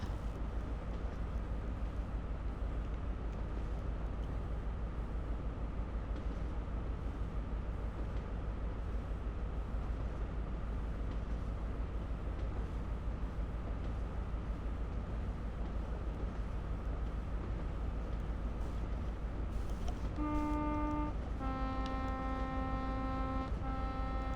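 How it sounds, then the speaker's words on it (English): A train horn sounds near the end, sustained harmonic tones over the steady rumble of an HST with Castle class set running on a West Cornwall line toward St Ives in Train Sim World 5, warning at a foot crossing. "So I will honk in a second just to warn people."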